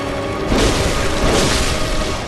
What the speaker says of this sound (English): he does this explosion attack by curling up